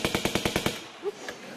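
Quiz show buzzer sounding like a burst of machine-gun fire: about seven rapid, sharp, evenly spaced shots in a quick rattle, then a short pause with a faint blip and a small thud.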